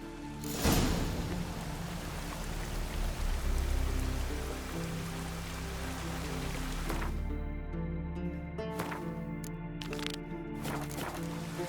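Steady rain hisses across the ground in The Witcher 3: Wild Hunt, a dense, even wash of drops that thins and changes texture partway through.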